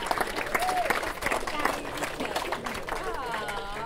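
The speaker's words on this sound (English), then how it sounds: "Let's have a clap for that." Wedding reception guests clap and cheer after a speech, a dense wash of applause with voices and whoops mixed through it, steady for a few seconds.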